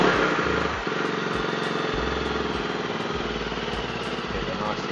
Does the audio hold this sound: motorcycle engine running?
yes